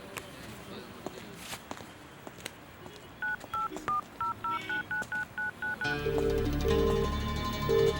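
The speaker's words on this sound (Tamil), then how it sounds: "ஒரு ஃபோன் பண்ணணும்." A phone number is keyed in on a telephone. About a dozen short, evenly paced dialing tones beep one after another over quiet room noise. A louder ringing tone follows, and faint footsteps can be heard at the start.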